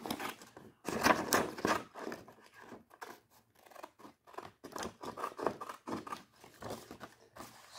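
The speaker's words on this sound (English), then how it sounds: "Let's put the scissors back together" Scissors snipping through paper game cards, close and fairly quiet, in a quick irregular series of crisp cuts with small rustles of paper between them.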